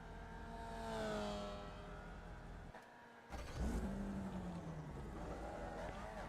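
Race car engine at Brands Hatch in a racing game, a sustained loud engine whine that dips briefly, then rises again in pitch with gear changes, alone without talk.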